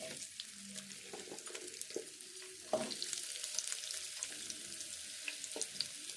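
Ridge gourd pieces fry in hot oil in a home kitchen, a steady close sizzle with soft crackles and a brief louder burst as the pieces go into the pan, no talk over it.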